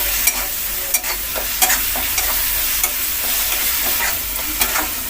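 Potato filling for masala dosa sautéed in oil in a pan, a steady close sizzle with repeated sharp scrapes and clinks of stirring spread across the clip.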